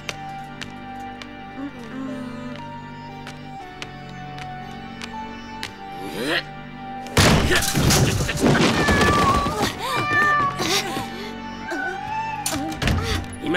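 A cartoon cat yowls and meows in a short wavering cry, followed by a burst of loud chaotic thuds, crashes and scuffling mixed with more cat cries and background music.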